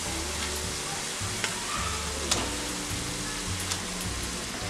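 Fried katla fish pieces go into a cooked spiced gravy in a pan, giving a steady close sizzle and bubbling with a few soft clinks from stirring.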